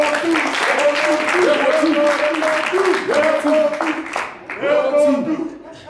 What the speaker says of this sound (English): Ladies and gentlemen, round of applause for Jack.